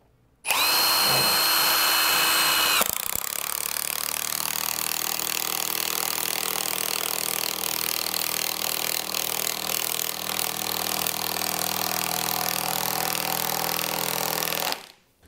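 A loud power drill whines at high speed, then drops into a long, steady grinding drone as it drives a big screw into a 2x4 without pre-drilling, stopping abruptly.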